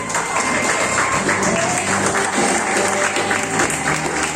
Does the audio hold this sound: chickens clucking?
no